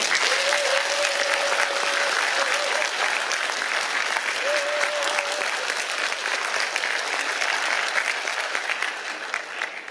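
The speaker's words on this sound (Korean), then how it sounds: "박수 한번 쳐주십시오" Sustained applause from a large audience at a civic festival in Pocheon, steady and dense for about ten seconds and tapering slightly at the end, with a faint tonal whistle or voice drifting through early on.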